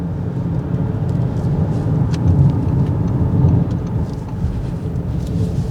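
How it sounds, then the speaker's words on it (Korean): A 2022 Audi A6 45 TFSI quattro sedan with a single turbo and 265 horsepower accelerates. A steady low rumble of engine and road noise fills the cabin, with a faint hiss above it. "지금처럼 이제 가속을 할 때도 이제 독일차답게 시원하게 가속을 잘 해주고 있고요"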